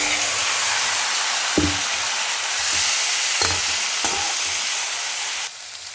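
Pieces of rohu fish sizzling as they fry in hot oil in a pan for a spicy Bengali fish curry, a loud, steady hiss with several sharp clacks and spatters of the fish being moved, then a drop in level near the end.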